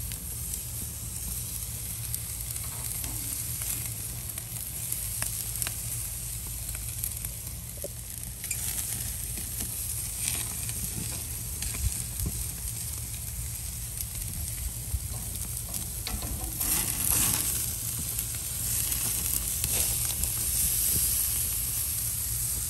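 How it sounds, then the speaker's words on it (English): Dry rub ribeye steaks sear on a grill with a steady, close sizzle and hiss that runs throughout, rising slightly toward the end, with no talking. "Now that we've got them seared"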